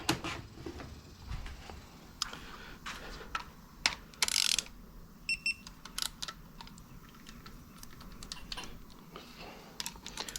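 A socket wrench ratcheting on a bolt of a Buick 3800 engine with a worn socket, rapid clicking bursts and metallic taps scattered irregularly, close and sharp against a quiet workshop background.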